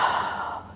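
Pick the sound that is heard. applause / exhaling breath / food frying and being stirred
exhaling breath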